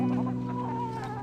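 Farm chickens clucking close by, a short burst of throaty, tonal clucks over about a second, alone without talk.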